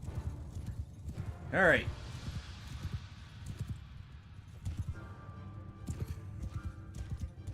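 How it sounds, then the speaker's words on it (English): Massed cavalry horses gallop in a video game, a steady rumble of clip-clopping hooves running throughout with a loud horse whinny near the start, while someone talks over the action. "That is a lot of cavalry."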